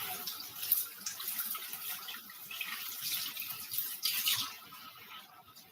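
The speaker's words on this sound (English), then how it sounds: "first thing you want to rinse off your onions and your green peppers" Tap water runs into a sink while onions and green peppers are rinsed in a home kitchen, a soft continuous splashing that swells and dips as the vegetables are moved under the stream, with no talking.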